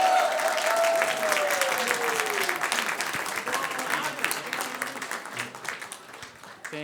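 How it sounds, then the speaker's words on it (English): Sustained audience applause at a Canadian screen music awards gala, dense and steady for several seconds before slowly thinning, with scattered cheers and faint voices mixed into the clapping. "Please give a warm applause for the president of the Screen Composers Guild of Canada, John Welsman, to say a few words."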